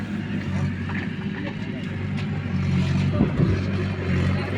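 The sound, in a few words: Mahindra tractor engine started and revved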